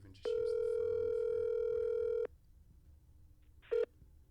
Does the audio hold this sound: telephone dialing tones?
yes